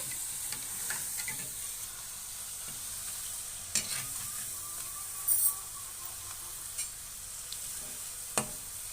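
Rice flour janthikalu frying in hot oil, a steady bubbling sizzle with occasional soft clicks and taps as the pieces are turned, quiet and continuous with no voices.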